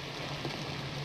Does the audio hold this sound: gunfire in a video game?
no